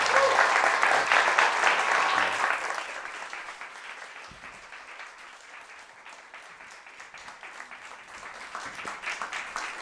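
Audience applause at a community report launch, a full round of clapping that starts loud and thins out gradually over several seconds, with sparse claps lingering near the end.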